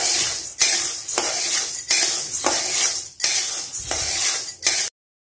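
Jowar grains are stirred while dry-roasting in a thin iron kadai, a spatula scraping and rattling them in about six rhythmic bursts of hissing, rasping sound, close and loud, ending abruptly.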